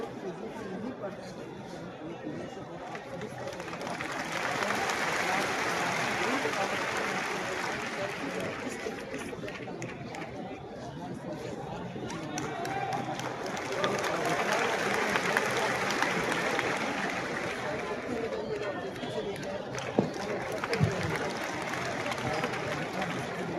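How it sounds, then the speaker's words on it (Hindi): Applause from a large seminar audience for a former BPSC member, steady clapping mixed with crowd chatter across the whole stretch, swelling twice before easing off. "एक बार इनके लिए भी जोरदार तालियां होनी चाहिए आप सभी।"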